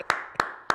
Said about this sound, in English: You got to transition from me clapping.